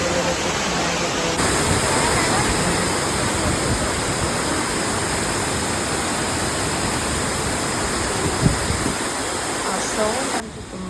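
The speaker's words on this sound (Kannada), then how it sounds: "ಟೆಂಪಲ್ ಮುಂದೆನೇ ಈ ಥರ ನೀರು ಹರಿತಾ ಇರುತ್ತೆ" Water rushes steadily in front of a temple, a dense, even roar like a small waterfall or fast stream that stays loud and unbroken from start to end.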